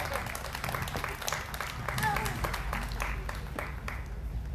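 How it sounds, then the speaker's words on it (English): A crowd at an outdoor Juneteenth rally in Ogden, Utah claps for a speaker being introduced, scattered fairly faint applause over low rumbling background noise with some voices mixed in. "If y'all can clap it up for me one time."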